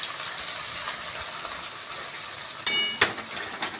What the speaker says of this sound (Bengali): এবার ভালো করে মশলাটা কষাবো।